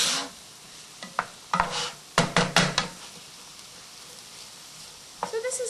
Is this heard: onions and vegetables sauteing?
yes